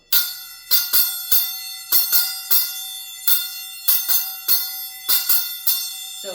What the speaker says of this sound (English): it's going down and hitting towards the bottom of the chappa